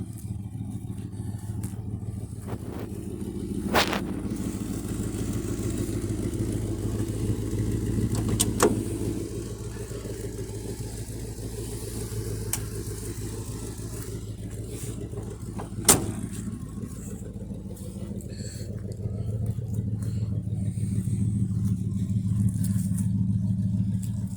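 A 1973 Mercury Cougar XR7 engine runs at a steady idle, a low, even rumble held throughout, with a few sharp clicks standing out above it.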